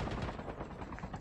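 Rapid gunfire from the mobile battle royale game Call of Duty Mobile crackles in dense, continuous bursts that sound like sustained automatic fire, with no speech over it.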